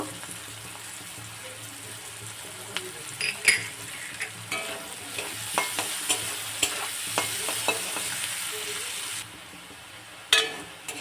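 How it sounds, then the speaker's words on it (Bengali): Chopped onion and garlic sizzle steadily in a hot kadai, with repeated close scrapes and taps of a spatula stirring them, building to sharper knocks near the end. "পেঁয়াজ রসুন এগুলো ভাজা হয়ে গেছে"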